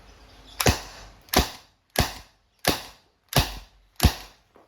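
An Umarex T4E TR50 tactical revolver fires six sharp, evenly spaced shots at close range, each a crisp crack, followed by a faint click at the end.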